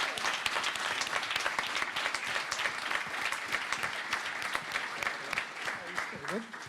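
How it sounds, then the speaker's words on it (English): A live audience applauds steadily at an evening event, dense clapping holding at an even level throughout. "So I want you to give him a big round of applause"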